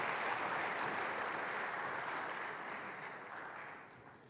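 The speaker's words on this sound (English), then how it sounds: "Another round of applause for Vice Chancellor." An audience applauds the Vice Chancellor at a student recognition awards ceremony: a dense, even wash of clapping that holds steady, then gradually thins and fades toward the end, with no voices.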